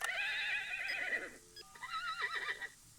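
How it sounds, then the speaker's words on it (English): Horse neigh from a novelty horse clock: a loud whinny, wavering and descending in the first second and a half, followed after a short pause by a second, warbling neigh, alone with no talk. "every hour a different horse sound"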